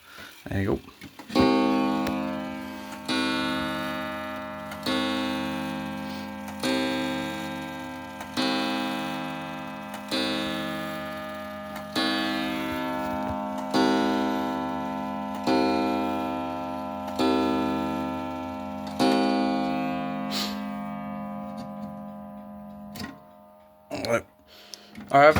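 Steady, loud ticking of a President 30-day wall clock, close by and evenly paced at roughly one tick every second and a half, with chime-like ringing tones sustained underneath and a few handling knocks near the end.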